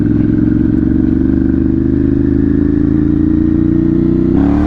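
A Ducati Monster 796 engine roars loud and close in a steady, throbbing drone, then swells into a sharper rev right at the end. No voices are heard.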